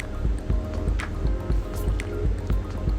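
Hot water poured into a French press to warm it, a close, continuous splashing and dripping of liquid with faint bubbling against glass.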